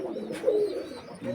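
Racing pigeons from a Trichy loft coo softly at close range, a low throaty call rising briefly over rustling and faint background murmur.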